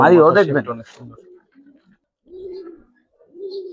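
Speech opens, then costly Giribaz pigeons of the silver pankhi line coo close by in two or three short, low, separate bursts with quiet gaps between them.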